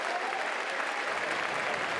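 Sustained crowd applause rings out at a North Carolina vs USC college baseball game, a steady dense wash of clapping from a large stadium audience that holds at an even level for the whole two seconds, with no voices standing out.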